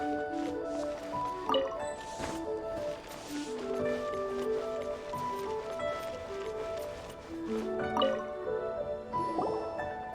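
Water being collected in Genshin Impact: soft dripping and liquid squishes with light clinking, quiet and close, scattered irregularly over the whole stretch.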